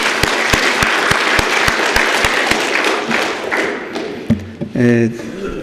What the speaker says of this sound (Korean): 한번 격려의 박수 한번 평창 쪽으로 한번 하십시다